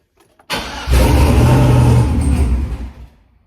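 A turbocharged AWD GMC Sierra with a freshly installed Huron Speed T6 big turbo kit cranks and fires, roars loud and close for about two seconds, then coughs and dies out.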